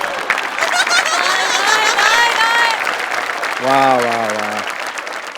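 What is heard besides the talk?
audience applause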